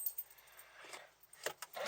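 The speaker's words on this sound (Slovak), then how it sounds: "Vyťahneme kľúčik" A key is pulled from the ignition of a Mercedes GLK, giving soft metallic jingles and clicks in a quiet car interior, with several small bursts toward the end.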